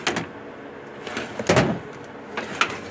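Drawers in a workshop slide open and bang shut during a search, three separate bursts of scraping and knocking with quiet pauses between them, close by and moderately loud.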